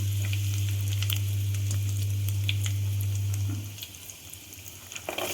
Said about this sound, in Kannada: ಎಣ್ಣೆ ಕಾದ್ಮೇಲೆ ಅದಕ್ಕೆ ಸಾಸಿವೆ ಜೀರಿಗೆ ಒಗ್ಗರಣೆ